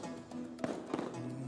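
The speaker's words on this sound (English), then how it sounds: "Making fireworks." Fireworks bursting in the video game Spyro: Year of the Dragon, two sharp crackling pops about a third of a second apart over a steady game music bed, fairly quiet.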